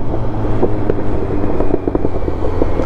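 A modified Kawasaki Z900 motorcycle accelerates, its engine a steady loud rumble close by, filling the whole stretch with continuous low drone and wind buffeting.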